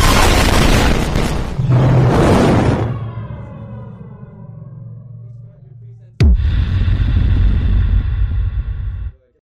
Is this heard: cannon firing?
yes